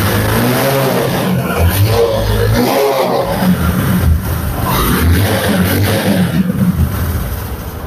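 A 125cc Bajaj Discover motorcycle engine runs steadily nearby, a continuous mid-pitched drone with slight throttle swells, heard alone without talk.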